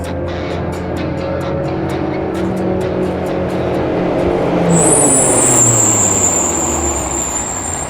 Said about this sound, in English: they're gonna come up to 40 miles an hour, coast at it, and then slam on the brakes